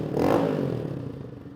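A KP Mini 150 RS EFI motorcycle with its exhaust fitted gives one brief throaty rev that swells quickly and then fades away, heard up close.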